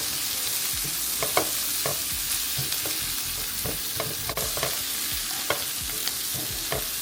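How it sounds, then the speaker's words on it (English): Onions and garlic sizzling in a pot for a shrimp boil, stirred with repeated scraping strokes in an uneven rhythm over a steady hiss, close up with no talk. "We're going to add our onions and garlic to this. And we're just going to stir that around."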